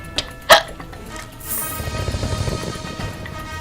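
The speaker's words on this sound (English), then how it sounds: "And a hiccup at the end." A cartoonish hiccup sound effect from the video game King of Towers: one sharp, loud hiccup stands out after a smaller blip, followed by a low rumbling game background.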